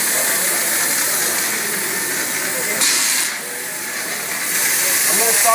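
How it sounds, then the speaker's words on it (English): An airless pump converted to a texture sprayer lays down a fine orange peel wall texture, giving a steady, loud, broadband spray hiss that runs the whole time, with brief shifts in intensity and no voices. "You can take your airless pumps and turn them into texture pumps."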